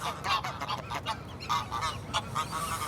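A restless gander goose honks repeatedly in urban wildlife in Hamburg, a run of nasal, brassy calls in quick succession, fairly close and clear over light background noise.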